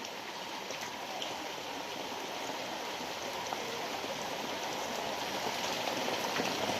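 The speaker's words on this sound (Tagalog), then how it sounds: "napakalakas na ng ulan" Heavy rain during flooding, a dense, continuous hiss of water pouring down and striking surfaces, steady and unbroken throughout, moderately distant with no voices.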